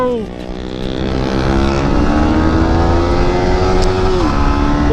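A motorcycle engine, a Yamaha MT-15 or Bajaj Pulsar 220, hums loud and close with a steady drone and brief pitch shifts as the throttle is blipped.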